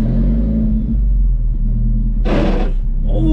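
Alfa Romeo 4C driving over a speed bump, a steady low engine rumble with a brief loud thump and rattle partway through, recorded close from inside the car.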